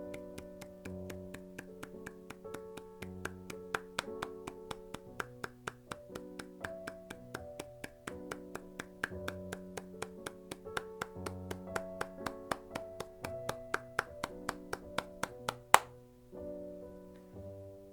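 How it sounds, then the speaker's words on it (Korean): Steady hand clapping, many sharp claps in a regular rhythm over soft background music, ending with one louder clap. "먼저 박수를 100번 쳐보겠습니다."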